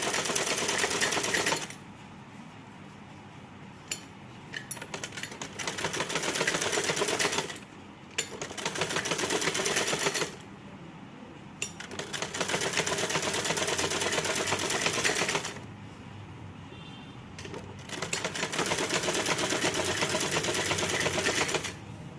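Sewing machine stitching a blouse with simple plain piping, running in several long steady bursts separated by short pauses, close and alone.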